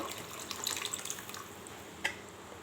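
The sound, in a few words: pouring water into dal pot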